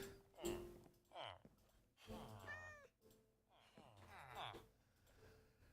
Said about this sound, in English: Yes, cat, I hear you meowing at me.